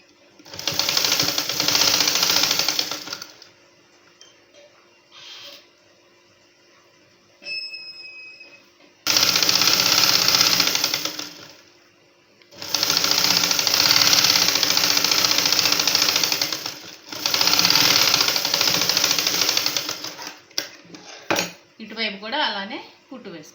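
Sewing machine stitching fabric for a dress coat, running in several loud bursts of a few seconds each, separated by quiet pauses with small handling clicks.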